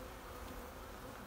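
Honey bees hum in a faint, steady drone at an open hive full of honey, a brief continuous buzz with no other sounds.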